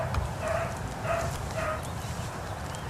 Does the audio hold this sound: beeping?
no